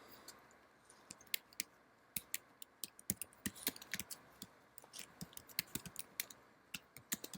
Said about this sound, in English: you again want to type the title of the paper